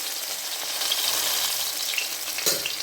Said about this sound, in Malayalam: അതിലേക്ക് ചുവന്നുള്ളി വെളുത്തുള്ളി ഇട്ട് കൊടുക്കാം